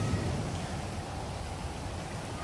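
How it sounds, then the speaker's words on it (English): Steady rain falling in the GTA 5 video game, a constant even hiss of drops without pauses, faint and alone for a short stretch. "It is raining, boy. Raining down."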